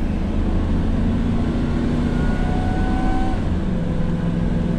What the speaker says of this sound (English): I'm just doing a normal takeoff going up this hill.